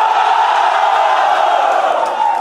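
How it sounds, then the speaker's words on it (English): Morning BCom batch students at a college comedy show roaring a loud, sustained cheer as one dense crowd. "morning BCom, give me a cheer."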